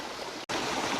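Small mini waterfall tumbling through a mountain valley stream, a steady close rush of falling water that briefly cuts out for an instant before resuming just as loud.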